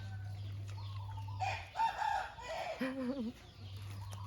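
A rooster crows loudly up close, followed by a few hen clucks, with a low steady hum in the background.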